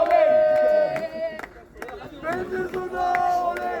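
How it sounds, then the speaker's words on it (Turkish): Football crowd at a Penci Zurna versus Cena Betis match chanting in unison, a loud, dense wall of voices with rhythmic swells and a brief dip midway before surging back. "5 5 5 5 tezahüratları geliyor hocam."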